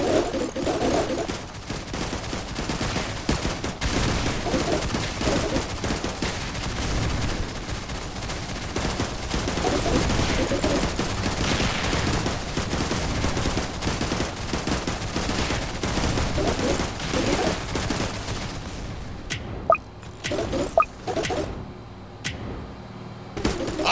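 Video game gunfire as rapid, dense bursts of shots running almost continuously at moderate loudness, thinning into a few isolated sharp cracks near the end.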